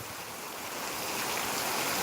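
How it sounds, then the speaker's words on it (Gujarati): Heavy rain and gusting wind lash a village during a storm, a steady loud broadband roar that swells slightly toward the end, with no voices. "અહીંયા વરસાદ આવ્યો"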